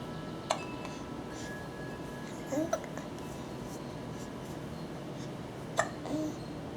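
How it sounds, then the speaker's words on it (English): A baby hiccuping indoors: two short, quiet hiccups a few seconds apart, each a brief squeaky catch, over a faint room hiss with soft clicks and a little background murmur. "You get the hiccups."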